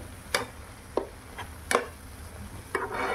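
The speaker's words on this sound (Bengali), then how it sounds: "এবং অল্প ধনে গুঁড়ো দিয়ে এটা নেড়ে চেড়ে আবার বসিয়ে রাখবো।" Coriander powder and spices being stirred in a pan, with four or five distinct scraping, clacking strokes of a spoon against the pan spaced about a second apart, close and fairly quiet, no voices.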